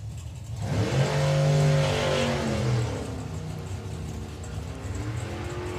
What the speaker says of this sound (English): Stuart Morris with the Morris Boys Camaro next.